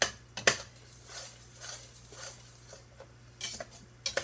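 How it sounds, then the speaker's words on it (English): A spoon stirs boiling strawberry jam in a pot, giving a few sharp scrapes and clinks against the metal over a faint bubbling background, with no talking. "our strawberry jam is boiling"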